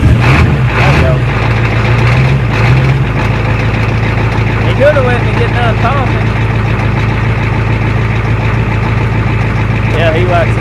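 A Ford F-350 pickup truck engine with a Flowmaster chambered muffler idles with a deep, steady rumble throughout, while someone talks over it near the start.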